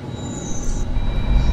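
Train rolling along in a video game, a steady low rumble of wheels and carriage with a brief high whine partway through, continuous and fairly close.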